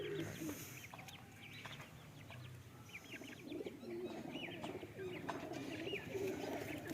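Pigeons in a rooftop loft of high-quality flying birds, cooing and clucking continuously, with soft repeated calls layered over steady background chatter of other birds, fairly close and moderately loud throughout.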